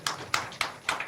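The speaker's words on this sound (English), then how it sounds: "Make una clap for her." Scattered clapping at a live broadcast programme, a few sharp separate claps in an uneven rhythm, faint and brief rather than full applause.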